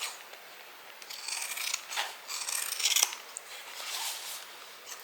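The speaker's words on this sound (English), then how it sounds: "you want to go ahead and cut back any places where it's not even." Scissors trimming uneven fabric edges on a sewn hip bag, several close crisp snipping and rasping cuts in irregular bursts, fairly quiet with no talking.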